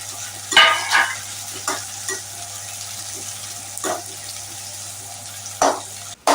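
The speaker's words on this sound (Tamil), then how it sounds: "ஆனியன் கொஞ்சம் நல்லா வதங்கிடுச்சுங்க. இப்போ நெத்திலி பொடியை போட போகிறோம்." Onions and anchovy dry fish powder frying in a pan, a steady low sizzle broken by a few sharp scraping stirs of a spoon against the metal, close and fairly quiet, with no one speaking.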